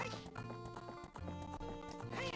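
A horse in a Zelda game, the Ship of Harkinian PC fan port of Ocarina of Time, trots with clip-clopping hooves and a whinny, mixed under steady game music throughout.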